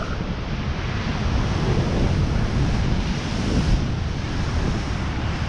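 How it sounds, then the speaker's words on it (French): Waves wash up onto the beach at El Cotillo in a steady, loud roar of surf, with heavy wind buffeting the microphone throughout and no voices. "l'eau qui vient presque jusqu'à moi"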